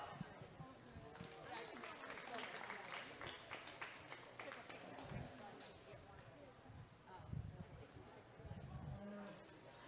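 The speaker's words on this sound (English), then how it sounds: "let's give him a nice big round of applause" Crowd applause at a junior fair steer show in a livestock arena, fairly faint and distant scattered clapping with low background noise and occasional cattle or arena sounds underneath.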